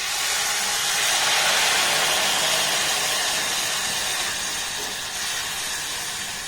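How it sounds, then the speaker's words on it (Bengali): A cup of milk poured into a hot pan of fried grated carrot, giving a loud, broad steady hiss of steam that eases slightly toward the end, with no talk. "এবার দেখুন এখানে দিয়ে দেবো এক কাপ লিকুইড দুধ"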